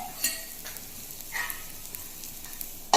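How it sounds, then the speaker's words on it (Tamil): Egg and meal maker paniyaram frying in oil over low heat in a covered pan: a steady, soft, close sizzle with scattered faint crackles and a few sharper pops, fairly quiet and with no talking. "எண்ணெயை ஊற்றி வேகிறதுக்கு சிம்மில் வச்சு மூடிடணும்."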